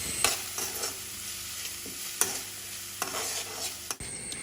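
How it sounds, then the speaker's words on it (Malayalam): Sliced onions cook in a pan with salt, sizzling softly and steadily nearby, with a few sharp scrapes of a spoon stirring at intervals and a sudden drop near the end; no one speaks. "സബോള ഇവിടെ വഴന്നു വന്നിട്ടുണ്ട്"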